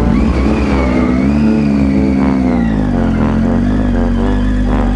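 A car engine pulls away steadily, its pitch rising and dipping as it accelerates, loud and close throughout with no voices.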